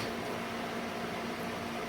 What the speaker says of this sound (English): That fan you hear in the back is a dehumidifier.